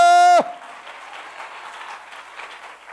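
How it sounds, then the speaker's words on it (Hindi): After a brief loud electronic tone, a church congregation at a Sunday service claps in a soft, steady, fairly distant patter that carries on evenly to the end. "जोरदार तालियां बजाएं"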